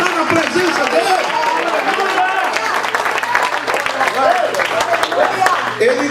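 Applause rises from a church congregation during an evening service, loud and continuous with cheering voices mixed throughout the clapping.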